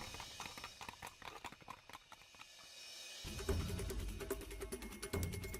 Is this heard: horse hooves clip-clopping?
yes